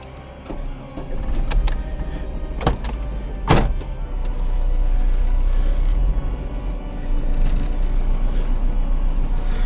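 A car engine running badly gives a steady, rough low rumble that stays loud throughout, broken by a few sharp clicks and knocks near the start.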